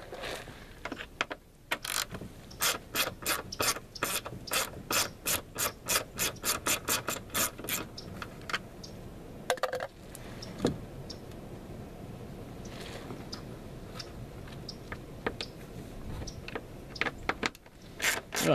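A T30 Torx bit backs out small screws from a Ford Escape's bottom engine cover, producing a quick run of close, rhythmic ratcheting clicks, then scattered quieter scrapes and taps.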